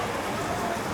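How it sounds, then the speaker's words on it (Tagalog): Heavy rain pours steadily at a café in Pampanga during a power outage at night, a dense, constant broadband hiss filling the whole second with no pauses. "lakas ng ulan"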